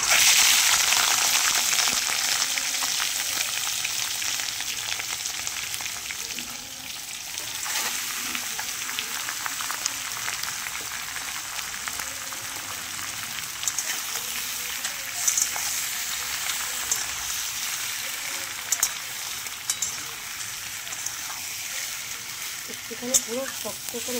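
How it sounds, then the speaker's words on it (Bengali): Prawns fry lightly in hot oil in a pan, giving a steady close hiss and crackle that holds throughout with small pops, while someone talks over it. "এইবার আমি মাছগুলোকে, তেল গরম হয়ে গেছে, ছেড়ে দেবো।"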